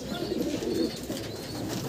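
Madrasi pigeons in a crowded loft of a pigeon seller in Nadia, giving low, soft cooing calls that overlap in a continuous murmur close by, without clear speech.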